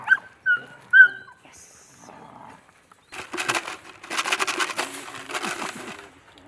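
A Kurdish dog gives a few high whimpering yelps, then after a quiet gap breaks into a run of rough, close barks and scuffling noise.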